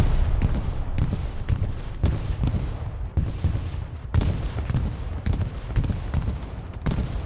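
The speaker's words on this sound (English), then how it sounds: "Bombing run goes through." Repeated heavy blasts from a bombing run in a console multiplayer war game, dense overlapping booms and gunfire-like cracks that keep rolling loudly across the whole stretch.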